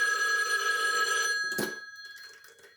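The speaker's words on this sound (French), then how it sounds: "on a à peine repris le boulot qu'il y a le téléphone qui sonne" A telephone bell ringing steadily and loudly, then cut off abruptly by a clunk as the receiver is picked up, leaving a quiet room.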